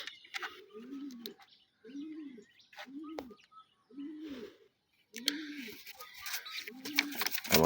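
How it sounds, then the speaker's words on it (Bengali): Domestic pigeons, one with feathered feet and one without, give a steady series of six or so rounded coos at regular intervals, close and clear, with occasional sharp chirps and rustling in between. "দেশি কবুতর দেখছেন, পায়ে মোজা আছে, এটা পায়ে মোজা নেই"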